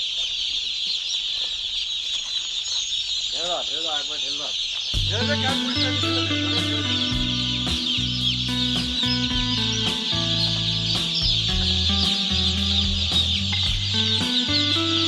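A flock of chickens clucks and chirps close by as the birds are let out, a dense continuous chorus over a steady high whine, with no talking.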